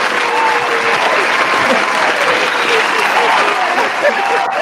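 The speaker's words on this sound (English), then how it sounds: "let me give you a round of applause before Daniel." Sustained applause from a crowd, steady and dense clapping throughout, fairly loud with a few voices mixed in.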